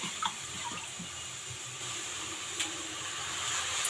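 Water is poured into ragi flour for upma: a soft, fairly faint trickle and slosh with a few small splashes, heard alone.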